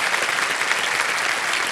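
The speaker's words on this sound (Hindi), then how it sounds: "तालियां बजती रहें इनके लिए।" Studio audience applause on a televised Hindi quiz show, Kaun Banega Crorepati, a dense, steady wash of many hands clapping at full volume with no talk over it.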